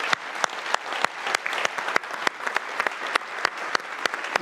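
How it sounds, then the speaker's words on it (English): Steady applause from a crowd at a safety and training awards ceremony, dense clapping for finalists with a few sharper claps standing out, sustained throughout without any talking. "let's have one last round of applause for all the finalists"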